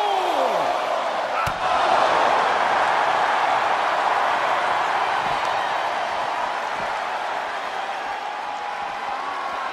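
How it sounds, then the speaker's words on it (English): A packed WWE wrestling arena crowd at Extreme Rules 2022 roars loudly and continuously. A heavy slam-like thud lands near the start, and commentary is faintly present underneath. "The sound of this crowd is deafening"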